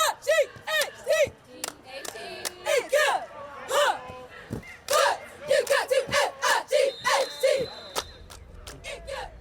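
The Dudley Panthers cheer squad shouting a rhythmic chant in unison at a Friday night high school football game, loud and close with claps punctuating the repeated syllables.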